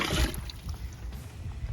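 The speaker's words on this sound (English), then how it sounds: "I'm just dipping water, it's all I'm doing." Water is dipped out of a bucket with a short slosh and gurgling splash near the start, followed by faint trickling and dribbling for under two seconds.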